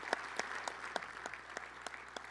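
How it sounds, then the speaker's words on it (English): Sparse applause at a hockey banquet ceremony: a fairly quiet, distant patter of separate claps at a steady, unhurried pace for a couple of seconds. "Let's give one more round of applause."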